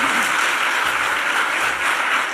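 Loud, sustained audience applause fills a political debate hall, dense steady clapping throughout with no break.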